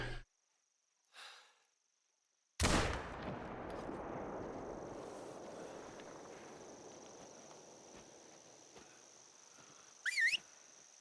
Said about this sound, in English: I'm going to fire my gun